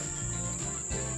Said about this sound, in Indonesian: dengungan lebahnya, berarti lubangnya tidak tertutup